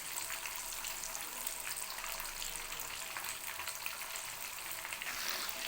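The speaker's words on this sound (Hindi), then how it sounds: "ताकि आहिस्ता आहिस्ता ये फ्राई हो और अच्छे से अंदर तक फ्राई हो जाए।" Fish frying slowly in hot oil in a pan, a steady close sizzle with soft crackling that holds even throughout, no voices over it.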